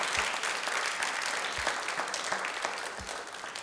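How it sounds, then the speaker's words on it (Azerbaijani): An audience claps steadily at an evening tribute concert, dense sustained applause filling the room throughout. "Alqışlayaq."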